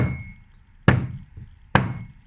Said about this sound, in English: I'm currently hitting the iron screw